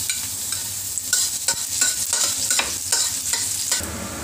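Garlic fries in hot oil in a pan, a continuous close sizzle broken by repeated scraping and stirring strokes of a utensil.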